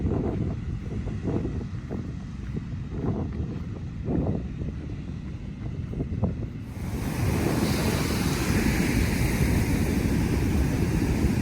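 Ocean waves wash onto the beach at Anastasia State Park in Florida, with a steady roar that grows louder and broader partway through, alongside some wind noise on the microphone.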